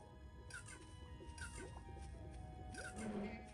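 Cats meowing in the video game Outcast Second Contact, several short mewing cries repeating in a quick rhythm over low game ambience, fairly quiet overall.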